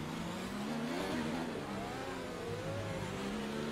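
Onboard engine of a Williams car in the F1 2019 racing game, a steady high revving whine with shifting pitch as it skips gears, loud and continuous with no talking.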